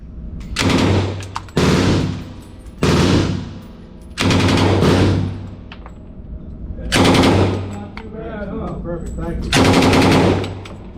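A Thompson .45 submachine gun fires repeated bursts of rapid automatic fire, loud and close, separated by short pauses, with a faint voice in one gap.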